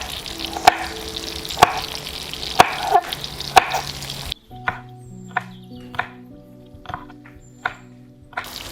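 Tomato slices dusted with pepper fry in a pan, a steady soft sizzle beneath regular sharp taps and clinks of a utensil, and the sizzle becomes quieter and sparser partway through.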